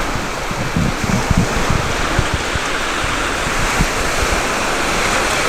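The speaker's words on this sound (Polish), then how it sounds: "Jesteśmy po drugiej stronie skały. Tam jest plaża." Ocean waves wash steadily onto a beach beside a large rock, a continuous loud surf roar with wind buffeting the microphone and occasional low thumps, no voices.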